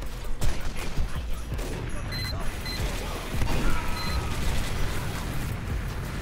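Gunfire in the video game Team Fortress 2 comes as rapid, dense bursts of shots and impacts, loud and continuous through the clip with a couple of sharper peaks.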